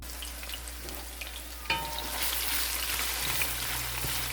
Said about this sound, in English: we will start sauteing our onions